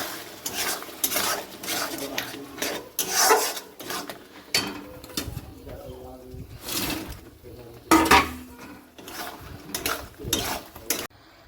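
Spoon scraping and clattering around a pan of soybean chilli seasoned with meat masala, garam masala and turmeric, uneven stirring strokes with a few sharper knocks, close and moderately loud with no speech.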